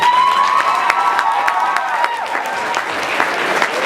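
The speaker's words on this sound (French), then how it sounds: "On l'applaudit." An audience applauds at a live show, a dense burst of clapping that stays steady and close throughout, with no voices on top.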